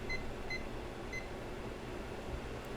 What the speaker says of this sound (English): go ahead and set the timer